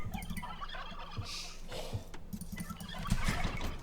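Turkeys gobble in the video game Age of Empires 2, a couple of rough warbling calls mixed into busy in-game sounds and clip-clopping hooves, at moderate loudness with no talking.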